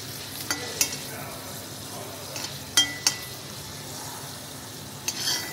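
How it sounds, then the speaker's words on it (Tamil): Garlic frying in oil in a slightly deep appam-style pan gives a soft, steady sizzle, broken by a few sharp clinks of a utensil stirring against the pan. "பூண்டு நல்லா வறுந்துருச்சு."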